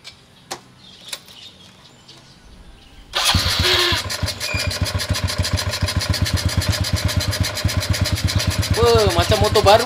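A Honda Dash motorcycle engine, freshly overhauled, cranks and fires up, then settles into a rhythmic, thumping idle close by, with a voice briefly heard near the end.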